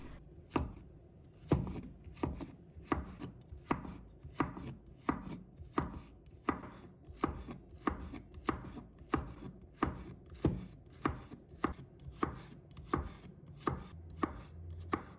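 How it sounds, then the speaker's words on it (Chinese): Garlic cloves sliced with a knife on a cutting board make a long run of steady, rhythmic chopping strikes, close and crisp, with no voices. "再准备一把大蒜，把它切成片。"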